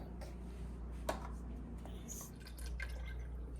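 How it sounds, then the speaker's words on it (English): Almond milk poured into a chia seed pudding mixture, a faint close trickle with soft drips and small liquid splashes over low background hum. "Now we're gonna add 2 cups of almond milk."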